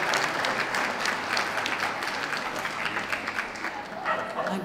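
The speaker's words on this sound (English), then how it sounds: "A round of applause to those leaving the ring, please." Audience applause at a hound group dog show, steady dense clapping from a crowd in the ring area lasting throughout, fairly loud and continuous with a slight swell near the end.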